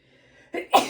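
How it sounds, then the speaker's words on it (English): A single close, sharp human sneeze, a short in-breath followed by two quick explosive bursts, loud and alone in a quiet room. "I'm going to sneeze."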